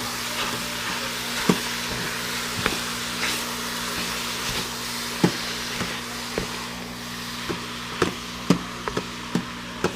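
Ground meat browning in an Instant Pot for beanless chili, giving a steady close sizzle and hiss, broken by sharp scraping taps as a utensil breaks up and stirs the meat, over a low appliance hum.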